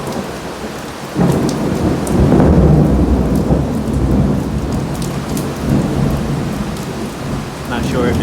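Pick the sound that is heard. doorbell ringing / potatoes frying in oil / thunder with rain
thunder with rain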